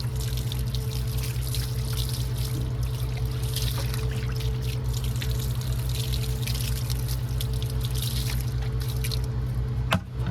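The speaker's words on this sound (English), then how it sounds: "I'm just pouring some water on here to show you what it looks like" Water is poured over car tires and rims to rinse them, giving a steady, close splashing and trickling that runs without a break.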